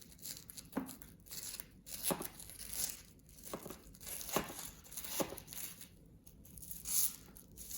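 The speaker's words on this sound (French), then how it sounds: "on va essayer de couper un petit bout tout doucement" A knife slowly cuts through a slice of vegan meringue cake, giving soft crinkly tearing and crunching sounds in a few separate strokes, faint and close with no talking.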